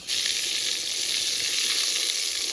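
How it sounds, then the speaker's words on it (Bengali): Bata fish sizzling and frying in a pan, a steady bright hiss of hot oil running unbroken and close throughout with no talk. "বাটা মাছের এক সাইডটা ভাজা হয়ে গেছে, উল্টে দিচ্ছি"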